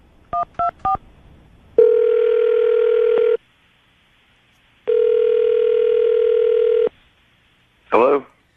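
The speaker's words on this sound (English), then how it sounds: "I'll dial the phone number right now" A telephone being dialed: three quick keypad tones, then two long, steady ring tones with a pause between them, and a brief voice at the very end.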